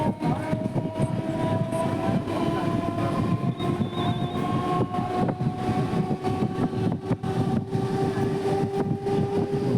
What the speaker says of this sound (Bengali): তো আমাদের ট্রেন এখন এসে পৌঁছেছে তার লাস্ট গন্তব্য স্টেশন সোনারপুর।